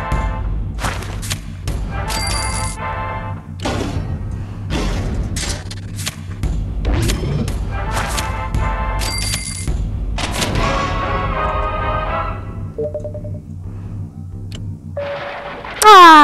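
Gunfire from the mobile game Fallout Shelter, including a flamer weapon, comes as repeated game combat bursts and thumps over a continuous music bed, with chimes and effects near the end and no talking.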